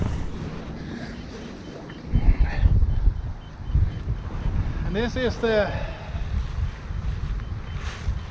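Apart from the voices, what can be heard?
wind blowing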